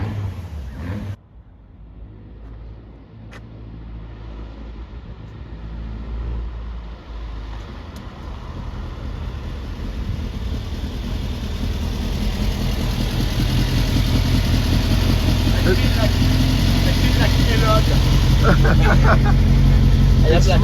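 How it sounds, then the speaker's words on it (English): An old car engine idles and runs unevenly while smoking, growing louder and rougher over time, with occasional faint voices beneath the engine noise. "The engine is not running very good yet."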